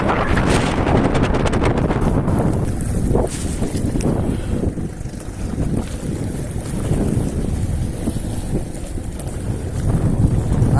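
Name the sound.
strong wind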